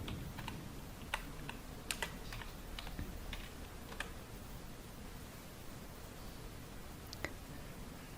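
A group name is typed on a computer keyboard: scattered soft key clicks, faint and close, over a steady low room hiss.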